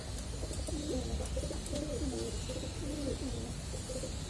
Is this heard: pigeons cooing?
yes